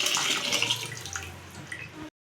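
Water pours steadily from a glass into a pressure cooker pot holding washed rice, a close splashing rush that ends abruptly.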